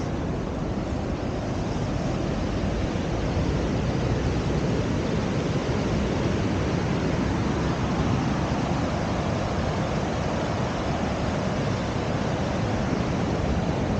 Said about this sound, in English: the waves are not big enough yet